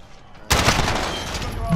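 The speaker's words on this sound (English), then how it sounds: "I shot like 10 bullets at him." A rifle fires a rapid burst in Call of Duty: Modern Warfare, loud and close, with the shots running together into a sustained crackle that continues to the end.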